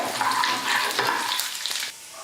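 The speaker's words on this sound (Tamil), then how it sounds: "பருப்பு நல்லா பொன்னுவரெல்லாம் வறுந்து வரட்டும்." Crackling, bubbling sizzle of lentils frying in hot oil, steady and close for a couple of seconds before easing off.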